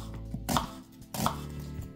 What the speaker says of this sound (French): Je vais émincer l'oignon.